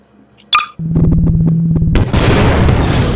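A weapon explosion in the video game Garry's Mod: a sharp blast, then a loud droning rumble that swells into a dense, noisy roar and stays sustained to the end.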